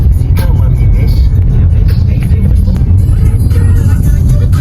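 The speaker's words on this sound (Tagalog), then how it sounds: "Ang daming sasakyan." Dense road traffic of cars and trucks heard from inside a moving vehicle near C5 in Pasig, a loud continuous engine and road rumble under people talking.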